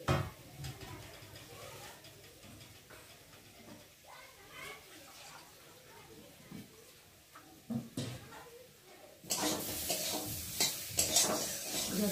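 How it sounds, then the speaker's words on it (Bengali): Egg curry sautéed in a pan with a spatula scraping and stirring, soft sizzling under intermittent clatter, then a louder burst of frying toward the end. "তাহলে আমি এখন ভালো করে কষিয়ে দিই"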